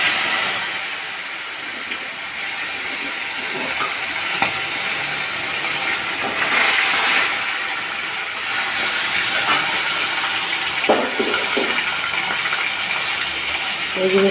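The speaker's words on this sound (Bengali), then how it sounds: "এই যে দেখছো মাছগুলো ভাজা হচ্ছে" Chitol fish fries in hot oil in a kadai, giving a constant loud hissing sizzle that swells and fades with a few sharper crackles.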